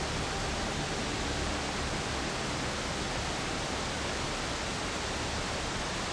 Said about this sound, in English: why are the waterfalls so loud?